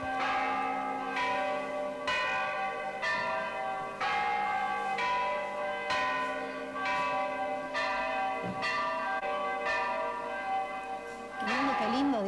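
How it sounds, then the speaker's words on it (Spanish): Several church bells in a historic town centre ring together in a dense, overlapping peal, loud and continuous, with strikes clashing and resonating throughout. "este singular concierto de campanas en el casco histórico"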